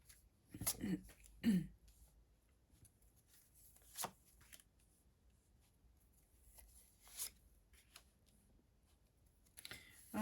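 Soft, quiet riffling and slapping of tarot cards being shuffled, a few brief bursts spread across near silence.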